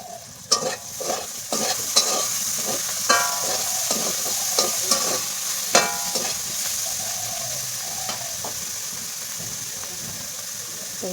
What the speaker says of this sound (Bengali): এদিকে হচ্ছে কলা ভাজা হচ্ছে